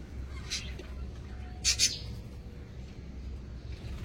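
Caged birds at a busy bird market, lutino red-eye birds among them, giving a few brief, faint chirps over a steady low crowd hum, with one sharper double chirp near the middle.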